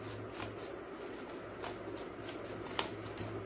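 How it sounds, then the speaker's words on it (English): Scissors cut along a fold line in a sheet of paper, making a few soft, quiet snips and crisp rustles against faint background hum. "So I will cut this line."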